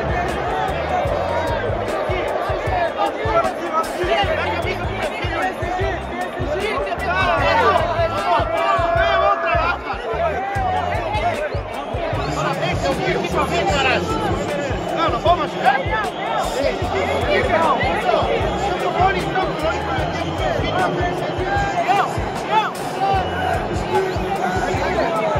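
Atlético Paranaense football supporters crowd together after a match, their chatter and shouts forming a dense, continuous hubbub close by.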